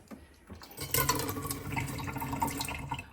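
Water runs from a hot water tap in an apartment, a steady hiss of flow that strengthens after a quiet start and keeps going close to the microphone.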